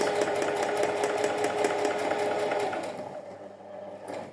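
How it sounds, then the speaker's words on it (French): A sewing machine running a straight stitch slowly along a traced line on fabric, a steady, close mechanical hum with a fast stitching rhythm that winds down near the end, with no talk. "on vient piquer doucement en point droit, ici"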